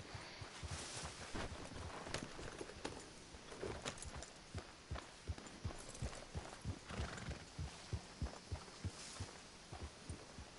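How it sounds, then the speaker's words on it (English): Horse hooves in the Call of Duty zombie game, a steady clip-clop of galloping hoofbeats with a rhythmic loud thudding throughout and little else around it. "Get my horse."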